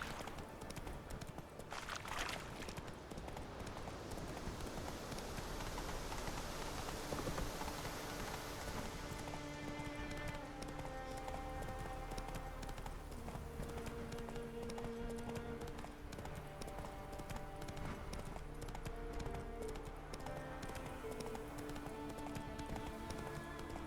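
Hooves clip-clop in a quick, steady rhythm as the horse Roach gallops through a wood in The Witcher 3 on Death March difficulty, with rustling ambience and a light patter around it.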